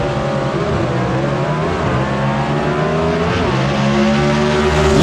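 Gasser drag race cars at Lassiter Mountain Dragway roar loudly and steadily down the strip, a dense, close engine drone with rising pitch through the whole stretch and no talk over it.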